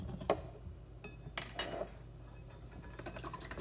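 Scattered clinks and taps of a utensil against a bowl while vanilla extract is mixed into waffle batter, a few sharp metallic chinks standing out over quiet.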